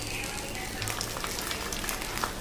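Kerala-style fish pollichathu fries steadily in oil on a tawa, a continuous close sizzle with small crackles and pops.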